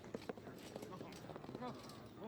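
A horse in the fantasy video game Thronebreaker, its hooves clopping in a short irregular burst, fairly quiet and mixed with other game sounds, with a brief neigh-like tone near the end.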